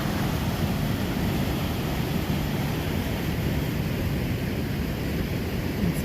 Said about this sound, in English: there's a nice waterfall here